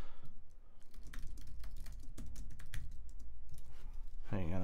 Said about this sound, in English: Sorry, I'm not talking while I'm typing.